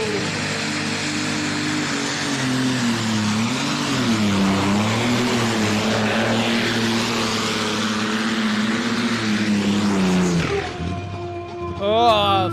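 The Easel Diesel pulling tractor from the Netherlands makes a full run at a tractor pulling event in Edewecht, a loud, sustained engine roar with swelling pitch that cuts off abruptly near the end.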